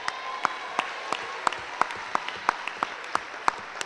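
Audience at a youth poetry slam in Seattle applauding steadily, a dense wash of clapping with sharp individual claps popping out at regular intervals, moderately loud and continuous throughout.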